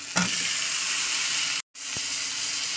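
Tomato pieces sizzle steadily in a hot pan for a live lata fish curry (jhol), a close, continuous frying hiss broken by one brief silent gap, with occasional soft stirring knocks.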